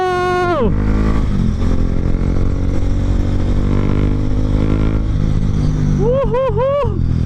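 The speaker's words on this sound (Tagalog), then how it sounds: "Ang sarap talaga magmotor." A motorcycle on a ride accelerating, its engine drone rising steadily and close, while someone speaks loudly over it, cheering near the end.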